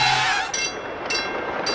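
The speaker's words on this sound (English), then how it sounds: "Martin is taking Metro to the beach" A Metro train rumbles at a platform with a steady broadband roar, while bright tonal bursts pulse at regular intervals, like a warning signal. The train is close and loud, with no talk.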